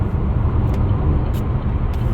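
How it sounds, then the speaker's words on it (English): A Chevy Volt's gas engine runs while the car cruises at high highway speed over ridged concrete, giving a steady, dense low rumble of engine and road noise with no break. "The gas engine is now running, and we're still running at a fairly high highway cruising speed."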